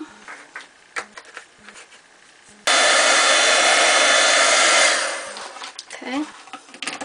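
Heat tool blowing hot air over a watercolor-look greeting card panel: a loud, steady whooshing roar lasting about two seconds, set between quieter handling noises and faint voice sounds.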